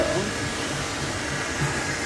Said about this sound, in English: If you guys hear my 3D printer in the background